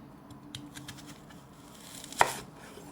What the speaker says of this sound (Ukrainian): Нарізаю цибулинку.